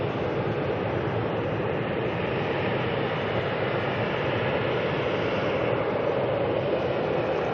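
A Cessna Citation Mustang business jet taxis out at Auckland Airport, a steady broadband engine roar that holds at an even, fairly loud level throughout with no voices.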